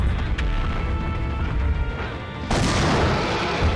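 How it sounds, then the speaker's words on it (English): A rope bomb going off in a video game, a loud booming blast that sharpens into a brighter crash partway through, alone with no talk. "the rope bomb does a lot of damage to him"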